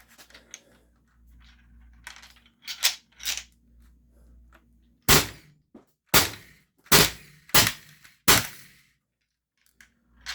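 An Umarex HDB 68 CO2 air pistol, powered by a Sodastream CO2 tank at 75 joules, fires round balls: a few softer snaps, then about six loud, sharp cracks in quick succession, with no talking.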